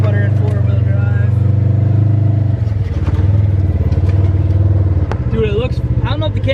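A Polaris RZR off-road vehicle grinds along close up in 4-wheel drive, its engine holding a loud, rough, pulsing drone with slight dips in pitch as the load shifts. Voices talk over the engine.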